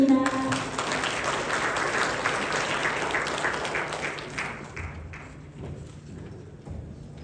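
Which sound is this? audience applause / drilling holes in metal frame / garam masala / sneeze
audience applause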